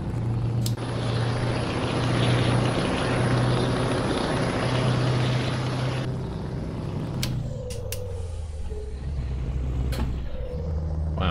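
A steady low drone from a plane coming in to land, heard from the road in Euro Truck Simulator 2, hums under a truck's engine, with a few sharp mechanical clicks and a hiss of air brakes near the end.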